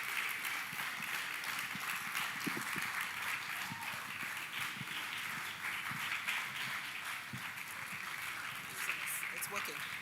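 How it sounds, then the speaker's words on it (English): Faint, steady audience clapping at a music festival event, a continuous soft patter heard from a distance with a low background hum, no speech over it. "Please clap her until she gets to the stage."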